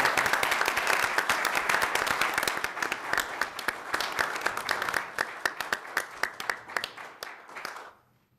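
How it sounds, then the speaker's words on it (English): A crowd applauds steadily for several seconds at a city council meeting, dense clapping that thins into a few scattered claps before stopping. "a round of applause for Richfield Bloomington"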